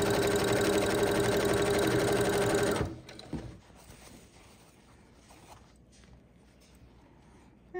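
Close and steady, a sewing machine runs fast while stitching quarter-inch quilt seams in fabric for a patriotic three-fabric quilt, then stops about three seconds in, leaving quiet handling noise.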